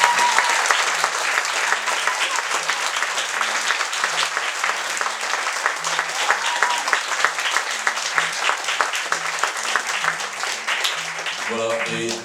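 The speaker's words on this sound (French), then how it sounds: "on peut les applaudir bien fort" A concert audience gives sustained, dense applause for performers of French songs, steady and loud throughout, with a few voices and musical tones near the end.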